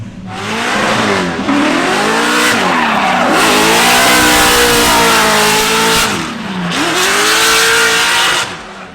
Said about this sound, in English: she's getting on the throttle so aggressively now